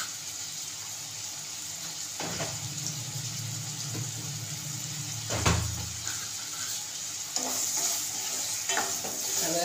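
Onion and spice paste sauté in a pan for a Maharashtrian matki bhaji, giving a steady low sizzle with scraping stirs now and then and a few louder clanks near the end.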